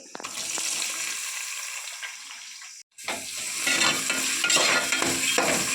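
Onions fry in a pan for egg biryani, a dense sizzle with stirring scrapes that drops out abruptly for a split second near the midpoint, then returns louder and fuller.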